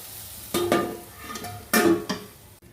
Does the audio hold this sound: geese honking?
no